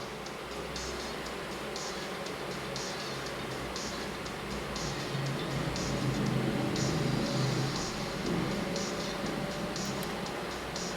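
A car engine in a mobile racing game played on an iuni U2 phone drones steadily, swelling into a louder, fuller hum midway, with no talking.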